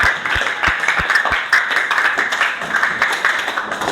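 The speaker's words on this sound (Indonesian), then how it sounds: "tepuk tangan untuk kita semua" A small group in a teacher training session claps, starting with a few distinct separate claps and then breaking into steady, moderately loud applause with no talk.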